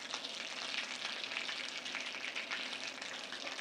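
Butter sputters and sizzles as it browns in a hot skillet, a steady dense crackle with rapid popping close up and no talk.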